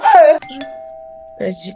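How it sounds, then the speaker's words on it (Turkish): A doorbell rings inside a home, a sustained electronic chime tone that hangs for about a second, with voices speaking before and after it. "Neden zil çalıyor acaba?"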